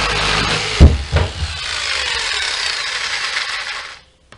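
A power tool cuts a hole through a camper roof, giving a loud, steady, harsh buzz for about four seconds. A couple of sharp knocks come near the start, then the tool stops abruptly into silence.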